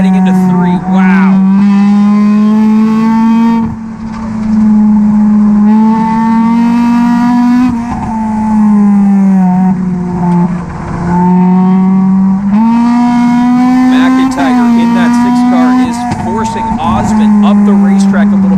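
Stock cars of a NASCAR Division III enduro roar loudly around an oval track, a sustained engine drone rising and falling in pitch as they lap, with a commentator talking over it throughout.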